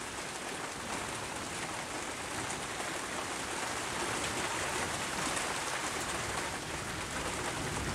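Steady rain falls outside, a dense even hiss of drops on surfaces with no breaks, moderately loud and continuous, with no voices.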